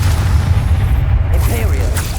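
Expelliarmus and Depulso spells cast in Hogwarts Legacy land as heavy, booming blasts over a constant low rumble, with a voice speaking over the effects.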